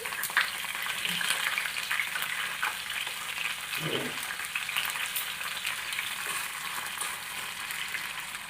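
Tomato chutney with tamarind, salt and mint fries in a pan, giving a steady close sizzle with occasional stirring scrapes.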